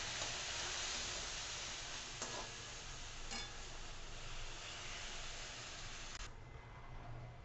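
Milk poured little by little into a pan of roasted wheat vermicelli for kheer, giving a steady, loud sizzling hiss throughout, with a few short splashy bursts and no talk.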